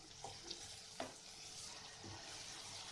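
Ginger-garlic-chili and onion paste fries on high flame for handi paneer, a faint, steady sizzle with a few soft clicks of stirring and no talk.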